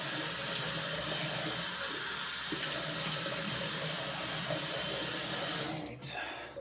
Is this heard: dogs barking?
no